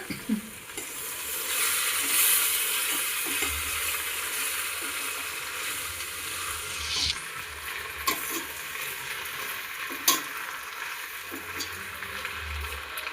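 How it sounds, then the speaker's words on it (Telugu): Gongura leaves are stirred and fried in a pan with a steady hiss and scraping, with occasional sharper clinks of the spoon against the pan; no voices. "ఆకుల్ని మనం దీంట్లో వేసుకుందామండి. దీన్ని బాగా ఒకసారి కలిపేసుకుందాం."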